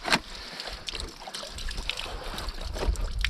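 Water trickles and drips steadily from a fishing longline being hauled in while checking set lines outdoors, a close, continuous splashing dribble with a few sharper drops.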